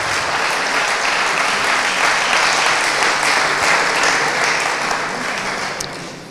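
Loud, sustained audience applause at an evening presidents' gathering, a thick, even roar of many hands clapping that tapers off slightly at the very end.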